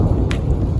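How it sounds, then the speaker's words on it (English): Thunder rumbling in a storm, heard as a loud, steady low roar with rain hiss over it and a brief crackle partway through. "thunder."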